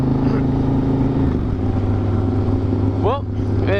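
A 2018 Harley-Davidson Fat Boy motorcycle engine runs at a steady low rumble and rises in a brief rev near the end, heard up close.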